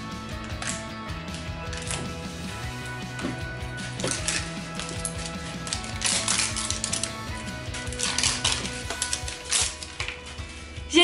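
Zipper on LOL Surprise Series 2 toy packaging being pulled open, a dense ratcheting rasp in uneven bursts with crinkly rustling, close and fairly loud, with a steady background tone underneath.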